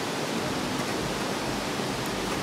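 A river near Machu Picchu rushes in a loud, steady wash of flowing water that stays constant throughout, with no voices on top.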